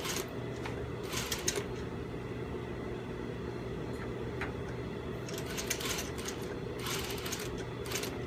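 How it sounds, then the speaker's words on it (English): A sewing machine bastes two fabric layers together at a quarter-inch seam, a fairly faint, continuous mechanical hum and rattle with light ticking and scattered handling rustles throughout. "you should be sewing about 1/4 inch, basting the two layers together."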